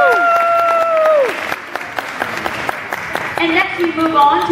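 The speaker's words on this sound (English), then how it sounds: "Give Miss Elizabeth a round of applause." An audience at a children's pageant claps steadily in a dense wash of applause, mixed with sustained tonal music notes throughout, loud and close.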